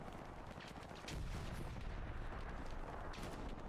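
A grenade explosion in an online competitive first-person shooter match, a dense roaring blast that swells and holds at a steady loud level after a second, amid continuous rumbling battle noise.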